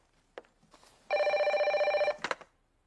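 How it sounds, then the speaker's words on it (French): A telephone rings indoors in one loud, steady electronic burst lasting about a second, between softer household noises, with no talking during the ring. "Réponds au téléphone, tu veux?"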